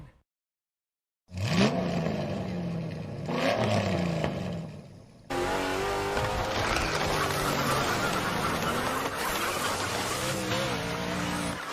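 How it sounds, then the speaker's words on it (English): Duck call blown repeatedly in a TV advert, loud honking quacks in short bursts, followed by a steady busy blend of quacking and engine-like noise. "That's way better than my duck call."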